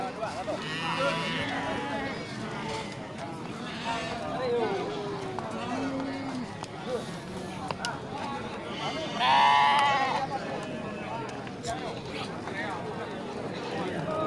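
Goats and sheep bleating at a livestock market stall, several scattered calls with one louder, nearer bleat, heard under steady crowd chatter and people talking.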